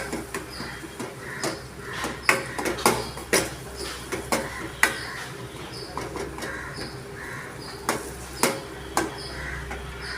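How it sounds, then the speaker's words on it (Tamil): Egg podimas masala with chilli powder sautéed in a pan: sharp clinks and scrapes of a spatula against the pan in an irregular rhythm, close by, with pigeons cooing softly in the background. "சேர்த்து நல்லா வதக்கிட்டு நல்லா பேஸ்ட் மாதிரி நல்லா வதக்கணும்"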